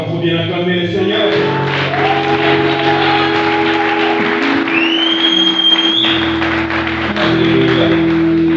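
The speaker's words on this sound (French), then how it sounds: "Est-ce qu'on peut applaudir et acclamer le Seigneur?" A church congregation applauds during a French-speaking worship service, steady clapping spread across the whole stretch with music or voices humming underneath.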